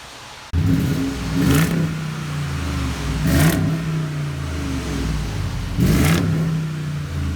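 A 2005 Dodge Ram with a HEMI 5.7 V8 and a stainless Magnaflow-style muffler starts up, then idles with a deep exhaust rumble, punctuated by three loud revs that swell and fall back, heard close up.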